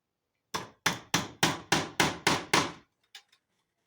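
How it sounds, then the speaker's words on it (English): Seven sharp hammer strikes drive a steel nail in to make a pilot hole during backyard wood work, ringing in a steady rhythm about three per second, close and loud, then a few faint taps. "So using a steel nail, I'm going to just make a pilot hole here."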